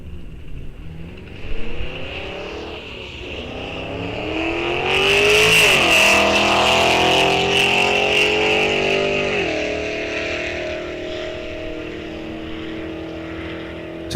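An '05 GTO and an '89 Mustang roar off the line in a bracket drag race at Rock Falls Raceway, engines revving hard and climbing through gear changes, loud and close before fading slightly down the track.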